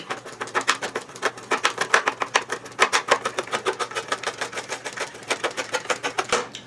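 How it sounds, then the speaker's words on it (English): Rapid knife strokes chopping green onions on a cutting board, a steady series of sharp, evenly spaced taps lasting several seconds, close and clear with no talk. "you want to go ahead and chop up your green onions"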